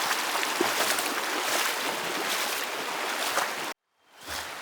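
Mountain creek water rushing steadily in a broad, continuous close wash, with a brief abrupt cut near the end before the flow returns; setting is a gold prospecting trip in the Santa Rita Mountains.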